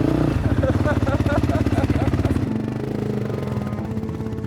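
A rally motorcycle engine revs and runs steadily on a Dakar Rally stage, loud and close, with a mechanical clatter that eases into a lower drone.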